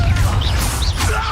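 A blasting curse in a fantasy wizard battle game goes off as a dense, crashing whoosh, loud and up close, with rising streaks swept through a constant rumbling game mix.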